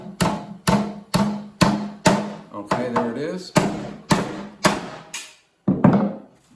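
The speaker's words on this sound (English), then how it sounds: "Get my really big hammer." A big hammer pounding on the wooden parts of an MG TF car seat: about nine loud, sharp blows at a steady pace, each with a brief ringing decay, with a short spoken remark among them.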